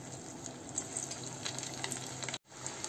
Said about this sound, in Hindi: जो ये दबा कर रख के रखा है उसे फिर से एक बार फ्राई कर लेते हैं।